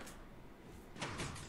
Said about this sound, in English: Ooh, piston door